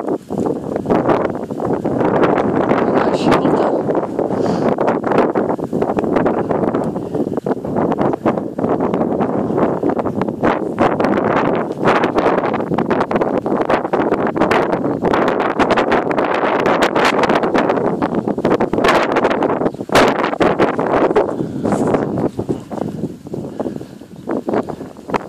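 Wind blows from the southwest at an outdoor spot where high-flying Nikolaev pigeons are released. It makes a steady, dense roar and buffets the microphone for the whole stretch, with faint rustling and no voices.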